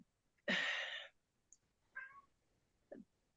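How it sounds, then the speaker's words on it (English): A cat gives one clear, loud meow, followed by a couple of softer, shorter mews, close by with quiet gaps between. "Who's costuming meowing?"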